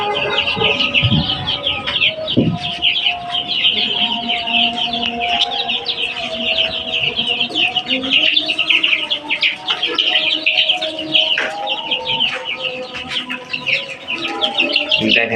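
Chickens at a small poultry farm cluck and chirp steadily at close range, a dense, continuous chorus of overlapping bird calls with scattered clatter.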